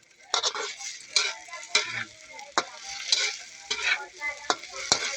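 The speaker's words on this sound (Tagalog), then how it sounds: "Prito kong konti para yung mag-brown siya." An egg crackles and sizzles in a hot pan while a utensil scrapes and taps against it in irregular strokes, close by.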